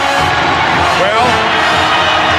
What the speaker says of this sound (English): this crowd's back in the game